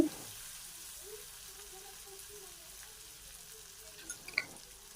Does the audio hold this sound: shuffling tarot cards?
no